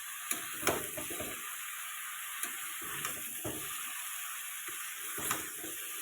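Drained boiled potatoes and jackfruit tossed in a frying pan, producing soft intermittent clatters and stirring scrapes over a quiet, steady hiss.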